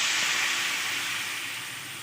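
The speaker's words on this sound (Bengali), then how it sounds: "এবার এতে অ্যাড করে দিচ্ছি কিছুটা পরিমাণ জল" Water poured into a hot sizzling pan of banana flower curry, producing a strong, steady hiss of steam that fades slightly over two seconds.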